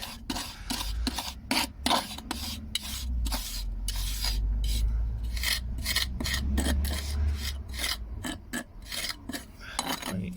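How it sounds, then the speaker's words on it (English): Dry mortar pushed and packed into paving slab joints with a pointing tool, giving a continuous gritty scraping with repeated rasping strokes in a steady rhythm, close and fairly loud. "Push the dry muck along, work it in, bit more muck in, work it in until you know it's packed."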